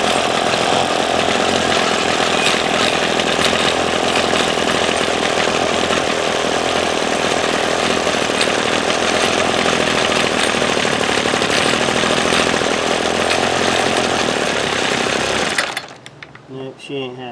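A Ryobi SS30 string trimmer's small two-stroke engine runs loud and close with a harsh, buzzy, uneven drone that wavers for about fifteen seconds, then abruptly dies, leaving faint handling noise.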